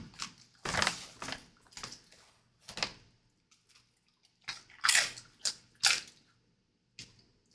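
Small, only mildly crunchy snacks being chewed close up, heard as irregular crisp bites and crunches in scattered bursts with quiet pauses between.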